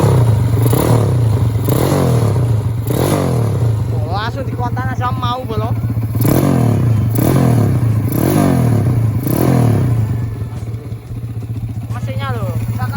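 A Honda Astrea Grand motorcycle bored to 200cc, engine still hot, revs repeatedly in loud, close bursts, each rising blip of the exhaust followed by a settling idle, with people talking over it.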